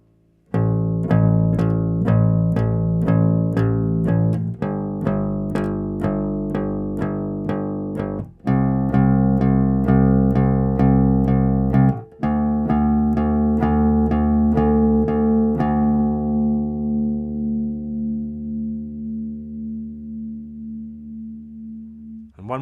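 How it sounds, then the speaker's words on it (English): A complete bass guitar line, played as a beginner exercise, runs as a continuous sequence of plucked notes with a few pauses and changes of pitch before a last note rings out and fades, close and clear with no talk. "The complete bass line should sound like this."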